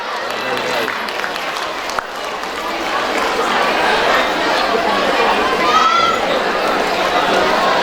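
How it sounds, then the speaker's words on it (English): Audience applause and crowd chatter at a school annual social gathering after a Bharatanatyam dance troupe is introduced, a steady mid-loud clapping wash that builds and sustains throughout with voices mixed in. "Give them a big round of applause."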